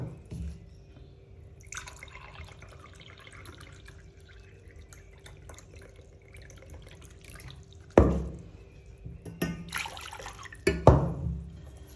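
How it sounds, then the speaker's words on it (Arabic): Water poured from a cup for a strawberry tart cream, a splashy, gurgling pour near the end after a quieter stretch of faint dripping and running liquid, no talk. "2 كؤوس من الماء"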